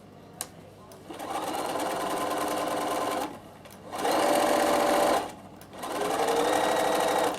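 Domestic sewing machine stitching fabric ties down onto a binding, running in three steady bursts with short pauses between, close and loud.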